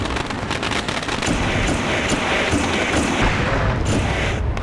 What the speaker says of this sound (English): Fireworks are erupting.